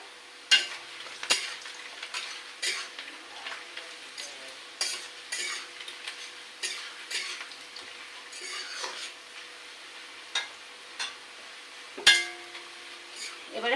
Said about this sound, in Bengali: আলুটা এর সাথে দিয়ে ভাজি করে নেবো একেবারে